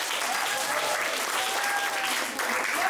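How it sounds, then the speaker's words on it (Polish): Enthusiastic applause from a theatre audience at a children's stage performance, a continuous, dense wash of clapping lasting about three seconds with no break. "ale też gromkie brawa do Szymona."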